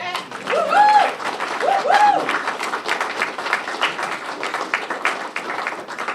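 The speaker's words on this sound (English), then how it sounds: "I think it deserves another round of applause." Audience applause at a talk about the Clapboard Hill Schoolhouse: a steady wash of clapping that rises in the first two seconds, then carries on evenly to the end, with voices and whistle-like tones mixed in early on.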